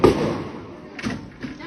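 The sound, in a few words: gunshots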